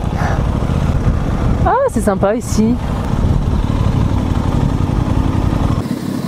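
A motorcycle rides a small road around a lake, its engine droning steadily and loudly throughout, with someone talking briefly over it.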